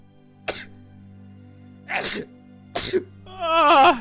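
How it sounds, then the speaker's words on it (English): A person sneezes during a casual streamed chat. There are a few sharp, close bursts, one stronger than the rest, then a short vocal exclamation afterward. "I gotta sneeze so badly."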